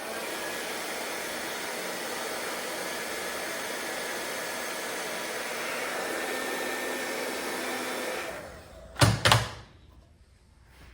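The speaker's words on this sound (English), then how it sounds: "we'll go back to the wife's old hairdryer and warm this aluminum up a little bit" An old hairdryer warms an aluminum housing during a Porter Cable 333 lower bearing repair, giving a steady, faint whooshing hiss that runs for several seconds, then cuts off, followed by two sharp knocks.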